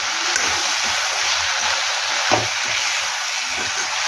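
Pea gravy curry is stirred in a hot pan, giving a steady close sizzle broken by a few soft scrapes and knocks of the spoon against the pan.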